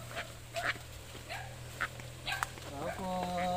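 Dog barking in short sharp bursts at a rural Philippine home near a river, a few moderately distant barks spread across the clip, with faint background sound and a tonal hum.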